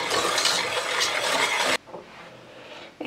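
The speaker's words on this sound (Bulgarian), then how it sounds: "Сега започвам да добавям прясното мляко с чашката, която използвах по малко и разбърквам с телта." Fresh milk being whisked into honey cake batter with a wire whisk: a steady, close swishing stir for almost two seconds that stops abruptly, followed by quiet and a faint clink at the end.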